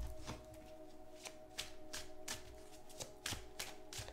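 A deck of tarot cards being shuffled by hand, heard as a series of crisp riffling bursts spaced roughly every half second. They sound close but quiet over a faint steady hum.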